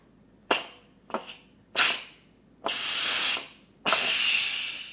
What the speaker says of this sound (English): That's our timer, which means it's time to vent, quick release.